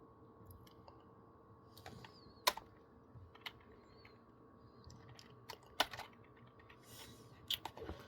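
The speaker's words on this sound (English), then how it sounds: "cannot type on this keyboard for some reason." Typing on a computer keyboard: sparse, irregular keystrokes and a few sharper clacks, close but fairly quiet, over a faint steady hum with no talking.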